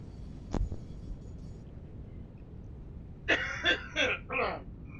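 A person clears their throat in a quiet room during a Satisfactory gaming session: one short thump early, then a cluster of four raspy throat-clearing bursts near the close, fairly close and alone.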